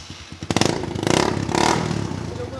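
A Daelim Daystar motorcycle fitted with an aftermarket exhaust revs in a few quick, close throttle blips, its engine note rising and falling over about two seconds.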